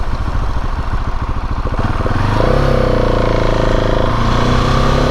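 A KTM 690 SMCR single-cylinder motorcycle revs hard in an aggressive throttle mode as it lifts into a wheelie, loud and close, with choppy pulsing at first, then a sustained high-revving roar that holds to the end.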